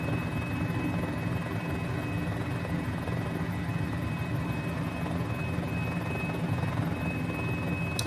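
A Mini-500 light helicopter in flight over Easter Island, its rotor and engine giving a steady, droning thrum with a fine whine above it, fairly loud and constant, with no speech.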